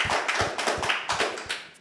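An audience claps for a guest in an Indonesian talk show setting, a brisk run of close, sharp hand claps without speech.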